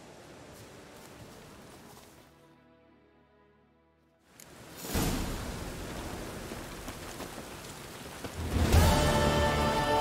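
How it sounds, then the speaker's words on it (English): Steady rain falls in the game The Witcher 3, a soft hiss that drops away for a moment and then returns louder and denser, with a gusty rumbling swell near the end. "Looks like rain."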